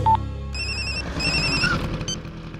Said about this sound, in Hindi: फोन रिंग हो रहा है मगर वो उठा नहीं रहा है